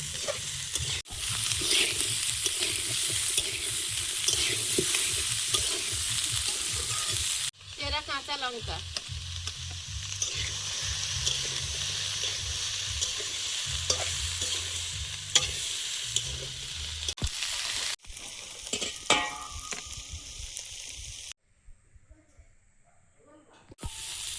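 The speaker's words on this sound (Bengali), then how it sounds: "সবজিটা ভেজে নিয়েছি এবার টমেটো দিয়ে দেবো" Mixed garden vegetables fry in a pan with a steady, close sizzle that runs almost throughout, broken by brief stirring and scraping, with a short quiet gap near the end.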